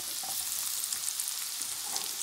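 Carrots, grated garlic and onion sautéing together in a pan: a bright, steady hiss of frying with faint stirring movements, close and uninterrupted, with no one talking.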